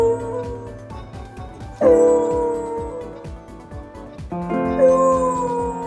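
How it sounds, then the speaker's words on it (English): A dog howls in long drawn-out tones that rise and waver like singing, two sustained loud phrases over a steady rhythmic beat of music underneath. "Elsewhere, a dog belts out his favorite tune."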